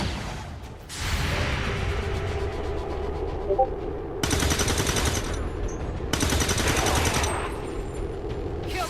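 Gunfire erupts in an XCOM 2 firefight: sustained rapid automatic bursts crackle loudly, broken by two sharper, brighter volleys, with a steady low rumble throughout.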